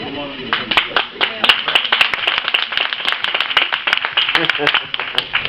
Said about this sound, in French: Là, fallait applaudir.